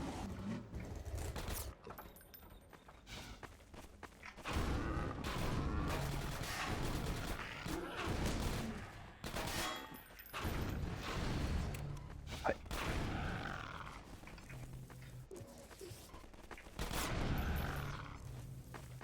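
Gunfire in the video game Half-Life 2 comes as repeated sharp bursts and volleys scattered over a busy mix of game sounds, with a voice talking at times.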